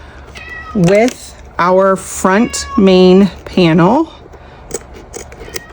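A needy house cat meows close and loud, four drawn-out meows in a row while a person speaks briefly over a sewing session.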